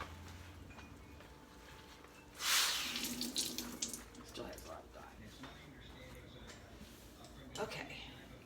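Water gushes from a tap over ice-dyed fabric being rinsed in a sink, a loud rush at first that settles into steady splashing and sloshing, with a few further splashes near the end.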